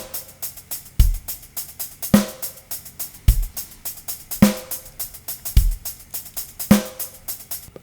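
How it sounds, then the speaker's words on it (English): Drum groove that blends odd subdivisions with standard 16th notes: crisp, evenly ticking hi-hat strokes over deep kick hits and sharp snare accents landing about once a second, played alone and up close. "Combining it with standard 16th notes, it sounds like this."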